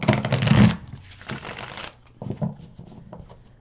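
Tarot cards riffle and shuffle in quick bursts, a loud crisp flurry followed by softer, scattered shuffling and taps, close by.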